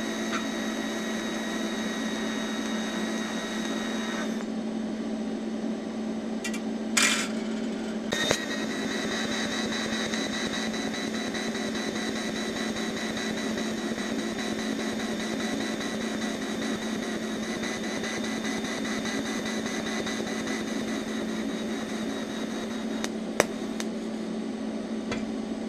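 An AHP Alphatig 200x TIG welder runs on stainless steel at low pulse, giving a steady, continuous buzzing hum with a few brief clicks and pops near its start and end.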